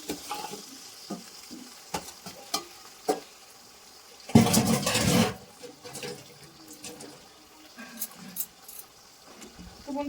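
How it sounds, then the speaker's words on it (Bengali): Chicken pieces frying lightly in a pan after onions, with a soft sizzle under scattered clinks and stirring knocks, and one louder burst of spattering midway; no talking. "এবার আমি চিকেনটা দিয়ে দিলাম। ও চিকেনটা হালকা করে ভাজি"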